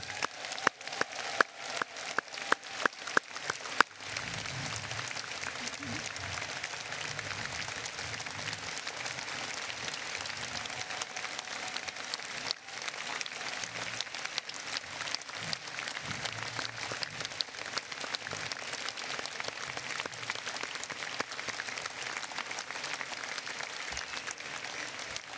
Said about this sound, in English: I want us to have a massive round of applause and appreciation for our migrant